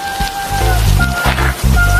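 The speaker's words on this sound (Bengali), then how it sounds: "বৃষ্টি তো আর থামার নামই নিচ্ছে না।" Heavy rain pours down steadily, a loud, dense wash of drops on surfaces, continuous throughout, with a tonal hum running over it.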